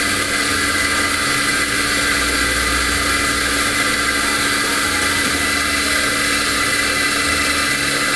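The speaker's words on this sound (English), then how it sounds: "we're grinding more for two single cappuccino" Automated, timed coffee grinder grinding beans for two single cappuccinos, a steady loud whirring drone that runs unbroken from start to finish with no talk over it.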